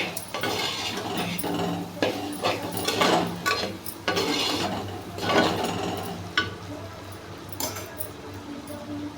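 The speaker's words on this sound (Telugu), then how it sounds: "అర స్పూను గరం మసాలా వేసుకోవాలండి. మంచిగా కలుపుకోవాలి." A spoon scrapes and clinks against a pan while garam masala is stirred into a mushroom and pea curry, giving irregular close knocks and scraping strokes at moderate volume with no talking.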